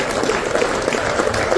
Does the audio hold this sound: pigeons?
no